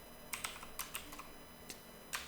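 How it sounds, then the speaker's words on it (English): Someone types on a computer keyboard, with soft clustered keystrokes arriving in short bursts and pauses, close and quiet over faint room noise. "while I'm typing this in here"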